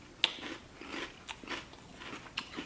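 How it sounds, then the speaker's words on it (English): Crunchy Drumstick cereal, sugary with vanilla flavor and little cone pieces, is chewed close up: a sharp bite, then a steady series of soft, crackly crunches, quiet and without talking. "It's got a nice crunch to it."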